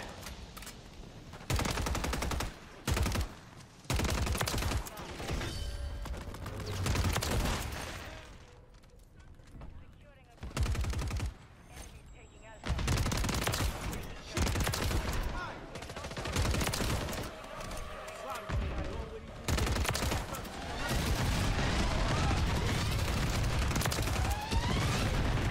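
Renetti pistol fire in Call of Duty Modern Warfare 3 multiplayer cracks in repeated loud bursts separated by short quiet gaps, with a player talking over parts of it.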